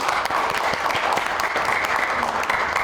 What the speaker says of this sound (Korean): 박수로 맞으시기 바랍니다.